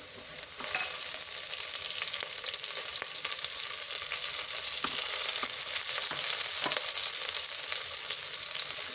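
Green chillies and onions fry and sizzle steadily in a hot pan for kushka rice, a continuous close crackle with occasional stirring scrapes and no talking.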